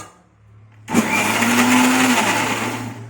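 A kitchen mixer whirs up loudly, blending milk cream with water to make ghee, with a sharp motor start followed by a steady, slightly rising grinding hum.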